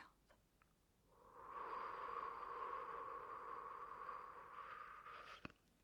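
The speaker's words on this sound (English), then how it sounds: "And exhale through the mouth." A long, soft exhale through the mouth during a breathing exercise, a faint airy rush that swells after a second, holds steadily for about four seconds and then stops, with near silence around it.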